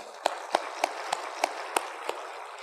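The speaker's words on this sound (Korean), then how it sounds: "박수 쳐" Church congregation clapping in time, about seven sharp evenly spaced claps in a rhythmic beat, clear and close with no talk.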